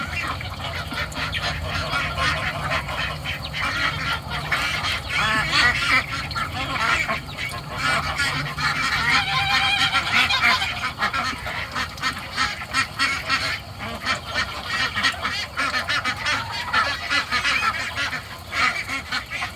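Busy, continuous quacking and honking from a crowd of ducks close by at feeding time, overlapping calls throughout with faint background noise.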